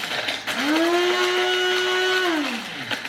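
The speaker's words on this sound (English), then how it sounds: "we're just gonna blend or grind these up. They grind up super fast" A kitchen blender grinds cashews into powder in one short, loud burst of about two seconds. The motor whine climbs quickly, holds steady, then winds down, close and with no talk over it.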